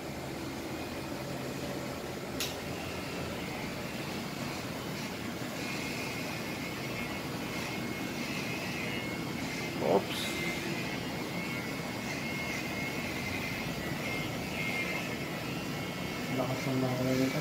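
A WMark NG-115 engine runs hard at high RPM during a performance test, a steady, loud whine and hiss holding almost unchanged throughout, with a few brief clicks and knocks on top.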